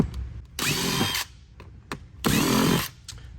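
Machine screws being removed from a fishing seat pedestal, two loud bursts of close whirring drill-like driving, each lasting under a second, separated by small clicks and handling noise.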